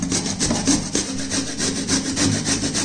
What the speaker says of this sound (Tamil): இப்போ நம்ம இந்த கிழங்கை சீவிக்கிடுவோம்.